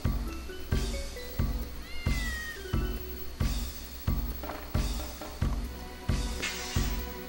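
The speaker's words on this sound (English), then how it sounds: "Oh, look at the kitty." A cat meows repeatedly in the video game Dark Cloud, with several short calls rising over rhythmic, pulsing background music and no talking.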